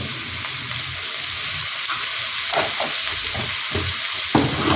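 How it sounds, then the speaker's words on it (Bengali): Taro and shrimp with garlic paste, turmeric and chili powder sizzle loudly in a frying pan while a spoon stirs through them, steady frying hiss with scraping strokes and light clatters. "দিয়ে একটু নাড়তে হবে ভালো করে"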